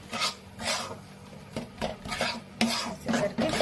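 A spoon scrapes and stirs flour through melted ghee in a pan. Rhythmic rasping strokes repeat about every half second, close and clear, with occasional metallic clinks.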